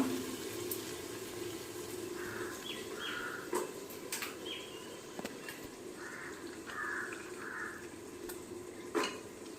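Soaked peas being stirred into mushroom biryani in a pot, heard as soft scraping and clinking of a utensil against metal over faint background water noise, close with no talking.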